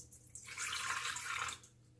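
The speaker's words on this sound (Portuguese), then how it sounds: "Eu vou pôr aqui 1/2 xícara de água morna" Half a cup of warm water is poured into a container to start yeast for cardamom sweet bread: a hissing, splashy stream swells in, runs for about a second, then stops, close by in a quiet kitchen.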